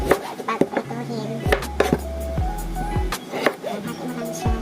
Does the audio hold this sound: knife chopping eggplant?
yes